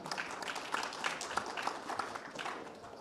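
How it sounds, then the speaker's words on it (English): Applause from an audience at an Indonesian data center investment conference, a steady moderate wash of clapping lasting a few seconds after a presentation, fairly distant and even. "Big applause again to Mr. Anand."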